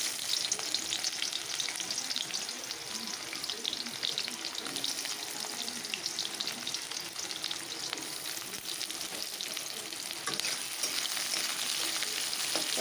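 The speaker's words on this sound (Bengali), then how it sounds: "আমি তো তেল দিয়ে দিয়েছি, এখন দিয়ে দেবো আমি আমার কেটে রাখা পেঁয়াজ কুচি।" Chopped onion sizzling steadily in hot oil in a pan, a loud continuous crackle with occasional stirring.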